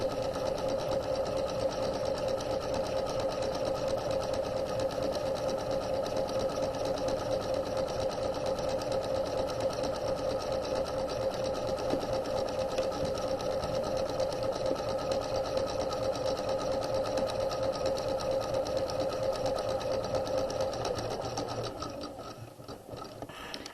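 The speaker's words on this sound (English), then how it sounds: "We're going to back stitch. We're going to sew down the garment." A sewing machine stitches a garment side seam at a fast, even whirring rhythm for about twenty seconds, close and steady, then slows and stops near the end.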